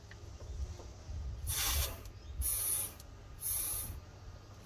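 Three short, sharp bursts of air hiss as they are blown through a carburettor from a 1989 Toyota Landcruiser Troopcarrier via a silicone nozzle tip, each about half a second long and close, separated by quiet pauses.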